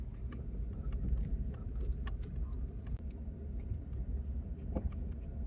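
A truck rolls slowly over a badly rutted dirt road in the backcountry, its steady low engine rumble overlaid by irregular rattles, clunks and loose jangling from the cab as the wheels jolt over bumps.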